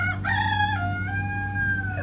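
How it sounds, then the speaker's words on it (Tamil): A rooster crows close by, one long drawn-out call rising and then trailing off, over a low steady hum. "இந்த கோழி வேற கூவிட்டே இருக்கேடா"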